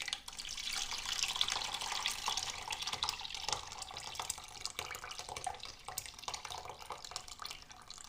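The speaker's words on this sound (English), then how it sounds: "Just put it over the colander and carefully pour your liquid, trying not to let any spill out" Rowan berry liquid poured carefully through muslin laid over a colander, a steady close splashing and trickling stream with drips, running continuously without talk.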